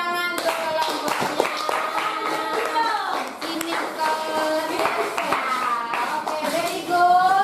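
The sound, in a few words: class clapping for a student group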